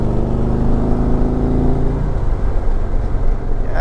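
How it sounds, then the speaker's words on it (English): An engine revs through an old stock exhaust, barking with a harmonic drone that holds steady and then drops away as the throttle eases, close and fairly loud with no talking. "That old stock exhaust sounds good."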